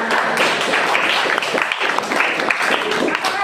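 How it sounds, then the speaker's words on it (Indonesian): Steady applause from a school audience, many hands clapping together, filling the whole stretch at an even, fairly loud level. "Beri tepuk tangan untuk SMP 3"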